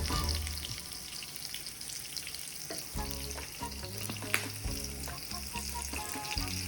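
A beef burger patty fries in a pan with a steady, close sizzle and crackle, broken by a few soft scraping stir sounds.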